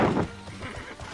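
A horse in the TERA online video game, a short sharp neigh up front followed by a few soft hoof clops, close and brief.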